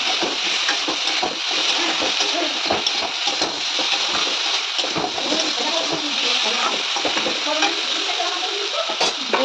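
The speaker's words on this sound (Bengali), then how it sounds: "এটা দিয়ে খুব সুন্দর করে ভাজা ভাজা করে নিতে হবে।" Brinjal and potato frying in a pan with salt and turmeric, a loud, steady sizzle running the whole time, broken by frequent scraping strokes as the pieces are stirred.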